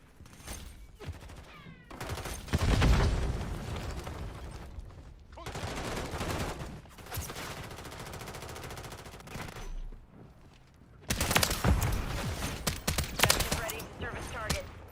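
Automatic weapons fire in bursts during a shooter video game, loud rattling volleys separated by quieter gaps, with brief in-game voice callouts mixed in.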